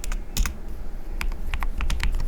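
Fingers type on a lubed custom mechanical keyboard in bursts of close, crisp, muted keystrokes with short pauses between them.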